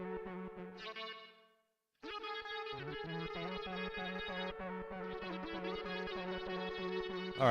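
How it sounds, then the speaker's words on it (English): Synthesized tones ring out with a long reverb tail, broken by a brief silence before a steady pulsing pattern continues, the echoes washing together under each note. "you could definitely hear the reverb there"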